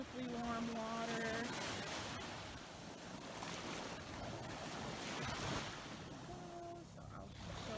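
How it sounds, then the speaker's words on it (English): Surf at Hollywood Beach, Florida, near Fort Lauderdale: a steady wash of waves with heavy wind buffeting, and a voice speaking briefly at the start and again near the end. "The ocean right here."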